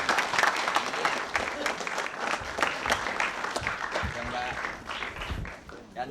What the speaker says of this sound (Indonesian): Tepuk tangan peserta yang warna kuning.